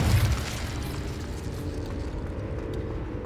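Incendio fire spell cast in Hogwarts Legacy: a deep, rumbling burst of flame at the start that settles into a steady low roar of fire, heard close with no talking.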